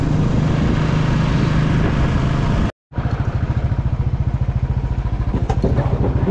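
A Royal Enfield Bullet thumps steadily on a high-altitude Leh ride between Sarchu and Karu, its loud, close exhaust pulsing in an even beat that cuts out for a moment and then resumes.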